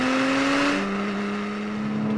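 A Porsche Cayman's engine holds a steady, strong drone that dips slightly in pitch partway through, heard loud and close with no speech over it.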